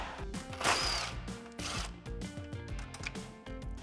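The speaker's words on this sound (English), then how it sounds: "Continuing with our 10mm socket, we're going to go ahead and get these bolts on the side of the fender removed." A hand ratchet with a 10mm socket removes fender bolts on a 2018-2020 Ford F150, giving rapid clicking pawl bursts in several short runs, close and loud, with no speech.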